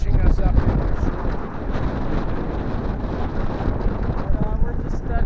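Strong wind gusts buffet a boat trolling in about 40 feet of water on Lake Erie in big waves, a loud, continuous roaring rush that dominates the whole clip.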